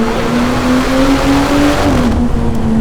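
A powerful car engine revs steadily at high pitch from inside, its tone climbing, then dipping slightly as it shifts, loud and continuous.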